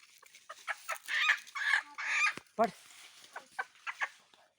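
Several chickens cluck and squawk nearby in quick irregular bursts, fairly quiet, with scattered short calls throughout.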